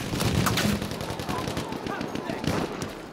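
A machine gun in the World War I shooter Battlefield 1 rattles in a steady, dense stream against a roaring battlefield background, loud and continuous throughout.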